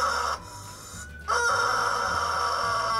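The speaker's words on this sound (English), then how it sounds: "Is this a digital one of those chickens?" Shrill screaming chicken sound from a phone app, loud sustained squawking bursts played back through a small speaker, with a short break between the two cries.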